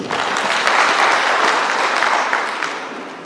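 A ceremony audience in Iringa, gathered for the award of environmental conservation certificates to villages, applauds honoured groups with sustained, dense clapping that swells and then gradually fades, heard alone without speech.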